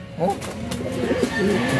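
Racing pigeons coo in soft, rounded, repeated calls close by, with a steady low background hum under the birds.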